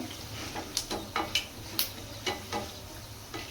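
Chana dal frying in hot oil for palak chitranna crackles and pops quietly, with a handful of sharp spits and ticks standing out over a soft, steady sizzle.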